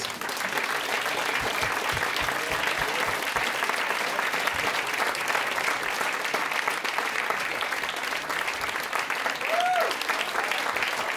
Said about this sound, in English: So maybe give Warren a big round of applause, please.